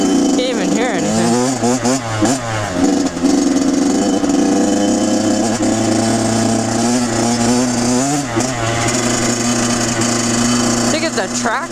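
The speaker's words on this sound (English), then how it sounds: "I think it's a tractor. Oh no, that's a side by side." Side-by-side utility vehicle engine idling nearby on a rural trail, a continuous loud rumbling drone with shifting pitch, heard under a person talking.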